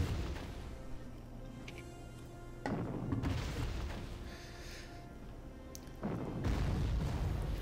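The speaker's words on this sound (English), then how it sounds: "that is some very effective shelling" Artillery shelling in the World War II strategy game Panzer Corps, set in France: a run of heavy booms and thuds arrives in bursts, two loud surges punctuating a rumbling barrage, with no talk.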